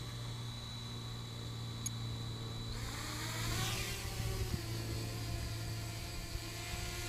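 A Blade 200QX quadcopter on stock props flies over grass with a faint, steady motor whine and buzz that rises and shifts in pitch partway through, with no talking.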